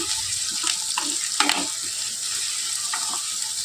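Onion, green chilies and mushrooms sizzle steadily in a pan as they fry until brown, with soft scraping stirs breaking through the close, continuous crackle.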